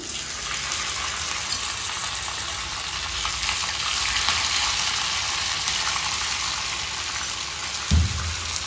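Curry leaves frying in hot oil as a tempering for gongura chutney give a steady, dense crackling sizzle that continues throughout, with one soft thump near the end.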